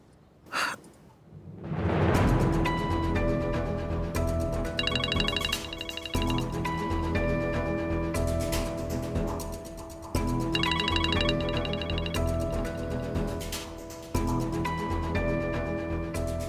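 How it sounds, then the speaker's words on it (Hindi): A short breathy sound, then a phone ringtone starts playing, looping its bright melody steadily and loudly. "आजमी अभी तुम्हारी मिस कॉल देखी।"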